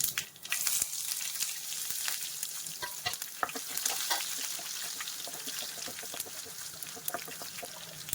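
Mustard seeds, crushed garlic and curry leaves sizzle and crackle steadily in hot oil, with frequent sharp pops and spatters over a continuous frying hiss, close and fairly loud.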